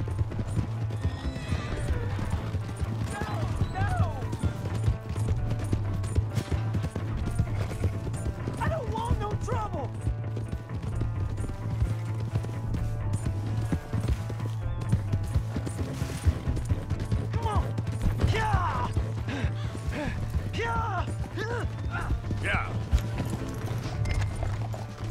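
Horse hooves galloping in Red Dead Redemption 2, a steady rapid clip-clop running throughout with occasional neighs, under continuous talking voices and background game music.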